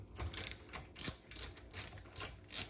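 A ratchet spin disk turns to loosen a bolt. It gives a faint, close clicking in six short bursts with brief pauses between them.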